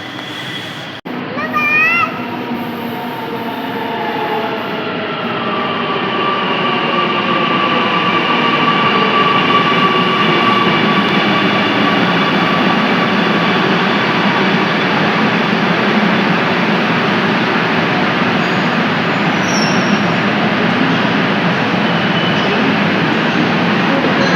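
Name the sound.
metro train arriving at station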